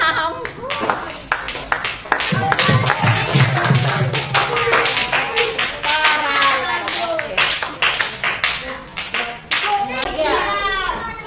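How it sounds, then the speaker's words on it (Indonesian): A classroom of students claps for a group presenting in a school teaching session. Dense, close applause goes on steadily throughout, with children's voices talking over it. "tepuk tangan untuk kelompok 6"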